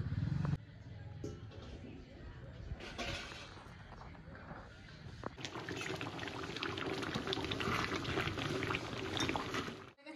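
Meat curry gravy simmering in a pot, a steady bubbling and sizzling that grows fuller partway through, close and continuous with a brief sharp clatter near the start.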